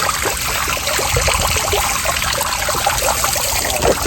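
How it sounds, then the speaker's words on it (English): Water from a pond pump pours steadily over a garden waterfall, a loud continuous trickling and splashing rush with no voices over it. "now you can see the waterfall coming through now"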